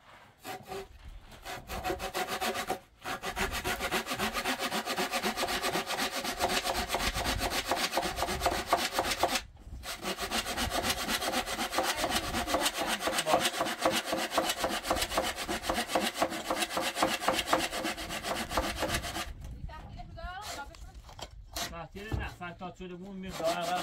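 Hand saw cutting through wood during house building: steady, rapid rasping strokes continue nearly nonstop for over twenty seconds, with brief pauses around three and ten seconds and a ragged finish.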